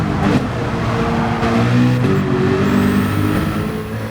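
Nissan Skyline R34 GT-R in Gran Turismo 7 holds a loud, steady engine drone with shifting harmonic tones as it accelerates and changes gear, alone throughout.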